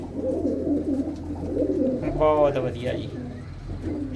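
Kept pigeons coo in a throaty, rolling burst near the middle while someone speaks briefly over a low background murmur.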